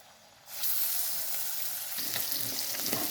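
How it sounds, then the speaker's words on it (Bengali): Fish frying in hot oil in a pan: a sudden loud sizzle bursts in after a quiet start and holds as a steady close hiss, with crackling spatters becoming busier toward the end. "দিয়ে দিলাম তেল এক এক করে মাছগুলো আমি প্রথমে ভেজে নিব"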